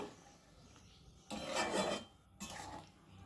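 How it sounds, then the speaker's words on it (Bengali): Mustard prawn mixture stirred in a pan for steamed mustard prawns, making two bursts of close, loud scraping and rasping with quieter low scraping between them and no voices. "এবার একটু নেড়ে চেড়ে দেব"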